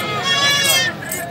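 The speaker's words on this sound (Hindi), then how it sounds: "और बकरी मैं आपको दिखाता हूँ" A goat kept with her three kids lets out a wavering, nasal bleat, close and fairly loud, with a second shorter call at the end and a busy outdoor background.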